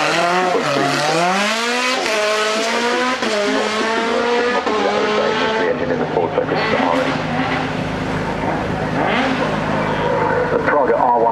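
A Praga R1R race car, a track-focused 305-horsepower machine, drives at the Goodwood Festival of Speed, its engine loud and close with rising and falling revs throughout, while a commentator talks over it.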